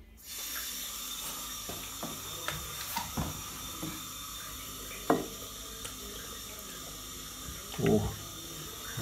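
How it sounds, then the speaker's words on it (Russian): Water runs from an opened tap in a flat where a leak flooded the neighbours below, a steady hiss with occasional clicks and knocks of handling. "Вот я воду включил, сейчас проверяем."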